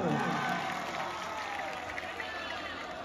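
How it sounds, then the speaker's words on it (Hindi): Loud applause and cheering from a crowd at a Kartik Puni Jatra stage show in Bhandarimal, a dense wash of clapping that sustains evenly throughout with crowd noise beneath. "गोटे जोरदार ताली गुडे"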